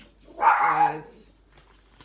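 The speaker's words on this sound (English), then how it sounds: "Sorry about the dog barking." A dog barks once, close and fairly loud, a short throaty woof in a home setting during a chat about diamond painting, with a person speaking briefly around it.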